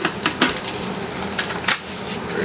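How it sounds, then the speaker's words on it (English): A metal lid clatters onto a cooking pot of simmering oxtail with a few sharp clinks and a scrape, close by and alone. "take your lid, put your lid back on"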